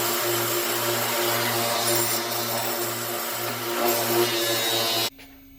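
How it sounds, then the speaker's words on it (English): A power sander works the back side of CNC-cut wood for a golf ball puzzle, giving a steady, loud, close whine and drone for about five seconds before it cuts off abruptly. "we're gonna sand the back side of this down to get where we get these cut out"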